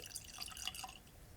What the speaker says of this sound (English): So let's go and get it poured.